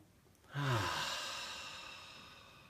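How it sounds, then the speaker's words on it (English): A single deep sigh-like breath, drawn in and released slowly, close and soft, swelling quickly then fading gradually in a quiet room. "Take a nice deep breath."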